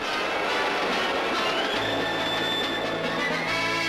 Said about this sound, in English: So the Shinkansen is the bullet train, the high-speed rail in Japan